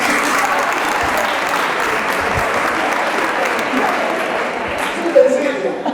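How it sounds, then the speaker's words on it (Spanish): Steady applause from a crowd of many hands clapping throughout, loud and close, with some voices mixed in. "Un aplauso para el chico."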